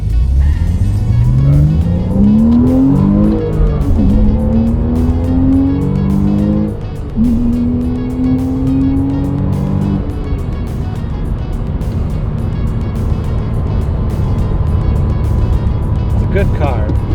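Car engine revving loudly and close, pitch climbing through several rising sweeps before settling into a steady high drone, with someone talking over it.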